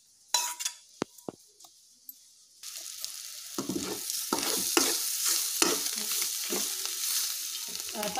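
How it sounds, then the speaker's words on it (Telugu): A few sharp spoon taps against a pan come first, then gongura paste is stirred into egg curry, bringing a steady sizzle with rhythmic scraping and wet mixing strokes. "ఆ పేస్ట్ వేసుకొని కలుపుకోవాలి. అంతా బాగా కలుపుకోవాలి."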